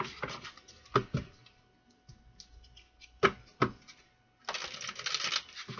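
Playing cards are handled with a few sharp taps and slaps, then riffle-shuffled in a rapid fluttering burst, close and fairly quiet.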